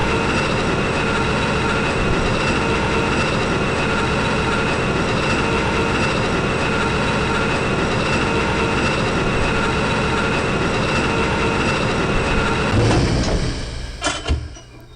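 A steady mechanical elevator hum with rattling, rail-like clatter runs loudly from the Thief game, holding constant before cutting off with a few clunks near the end.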